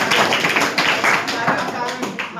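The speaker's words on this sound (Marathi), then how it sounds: "आता खरोखर टाळ्या" Students in a classroom clap together in a quick, uneven patter that continues throughout, close and fairly loud, with a voice briefly mixed in.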